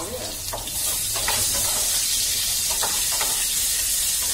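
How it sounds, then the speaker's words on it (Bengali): Potatoes with salt frying in hot oil for chicken kasa, a loud continuous bright sizzle and hiss that swells after a moment and holds steady, close up. "তো আলুটা আমি নুন দিয়ে একটু ভেজে নিই"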